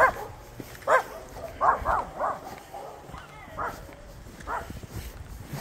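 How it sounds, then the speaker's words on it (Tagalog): Several dogs bark and yip intermittently at a rural spot, sharp moderately near barks scattered in short bursts over a quiet background. "Yun, may mga aso na."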